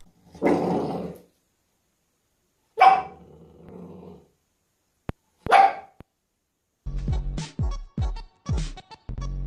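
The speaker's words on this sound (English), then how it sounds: "There's this dog that has eyebrows, so it looks like it's always incredibly sad." A dog barks in several loud, close bursts, first single woofs spaced apart, then a quick run of sharp barks toward the end, with silence between.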